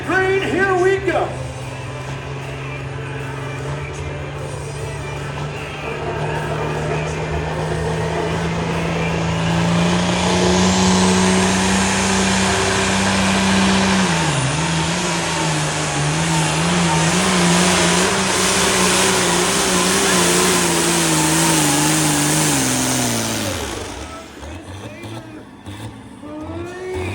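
A pulling tractor at a tractor pull in Sandy Downs, Idaho, roars with a loud, sustained engine drone that climbs steadily in pitch, dips briefly, then builds again before cutting off abruptly near the end, with an announcer talking over it.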